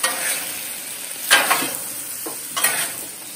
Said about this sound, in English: I'm going to add a little bit of soy sauce onto our, teriyaki sauce on our vegetables over here.